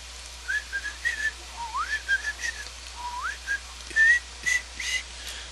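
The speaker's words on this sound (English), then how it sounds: "Sorry, I have like no vocal range at all when I'm whistling" A person whistles a wandering, uneven tune of short rising and falling notes, fairly close and alone against a faint low hum.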